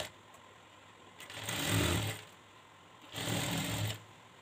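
Sewing machine stitching a square-neck border on a blouse, running in two short bursts of about a second each, with quiet pauses before, between and after them.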